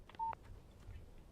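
A phone text message alert in the game Alan Wake: a short electronic tone sounds, near and clear, then fades into quiet room noise.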